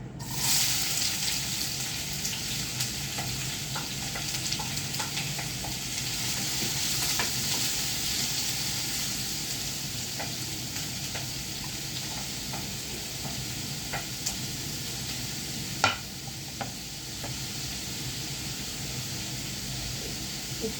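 Chopped onion sizzles in ghee in a pan, a steady close frying hiss that runs throughout, with a few faint clicks and one brief sharp knock near the end, and no talk.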